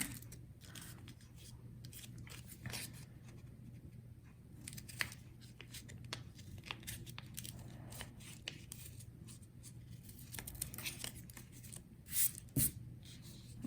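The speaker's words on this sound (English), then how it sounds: "I'm going to start by cutting out my two little ovals" Scissors snipping along a drawn line to cut out two small paper ovals for a snowflake craft, giving a quiet, irregular series of close crisp cuts and paper rustles over a low background hum.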